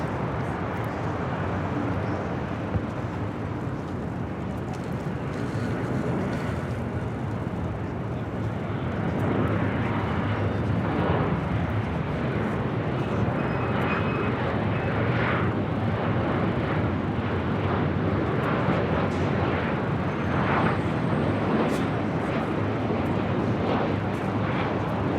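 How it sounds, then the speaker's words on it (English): A Delta Airlines Boeing 737 arriving at LAX from Minneapolis roars past in a loud, sustained jet rumble that swells midway and stays heavy to the end, with no voices. "Next arrival here on the north side, Delta Airlines Flight 1055, coming from Minneapolis, 737"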